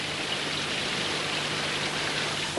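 Steady rain falls in a Moomins cartoon, a dense, even hiss of drops with a faint low hum beneath, continuous throughout and fairly loud.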